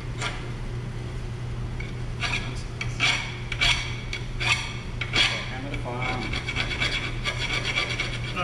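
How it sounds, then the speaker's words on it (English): A hand file rasps across a metal Jeep differential cover in quick, uneven strokes, scraping loudly and close, with a constant low hum underneath. "I had a file in my hand. I'm trying to make it flat and smooth"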